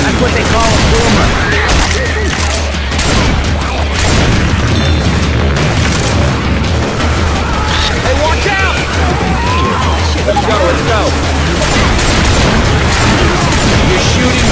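Constant heavy shooting and booming blasts in a Left 4 Dead 2 zombie fight, loud and dense throughout, with voices calling out beneath the din.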